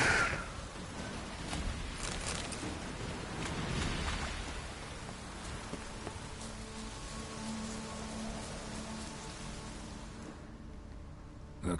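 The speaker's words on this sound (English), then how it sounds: "Looks like rain." Steady rain falls in the video game The Witcher 3: Wild Hunt, a soft continuous hiss with faint rumbling underneath that thins out toward the end.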